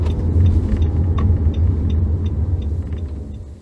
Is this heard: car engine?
yes